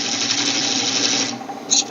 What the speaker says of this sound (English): Get our bevel supported cut out here on the outside.